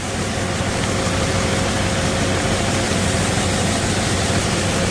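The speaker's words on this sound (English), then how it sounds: "The grain just keeps flowing down into the auger, takes it up to a central point, and up it goes." A grain auger runs while moving grain out of a storage bag, a loud, unbroken mechanical whir with a rushing, hissing texture and no pauses.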